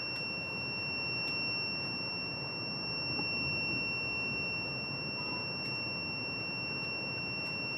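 A faint, continuous high-pitched electronic tone from a Nebula-62F industrial DTF printer loading ink rings steadily over a low background hum, with a few soft clicks.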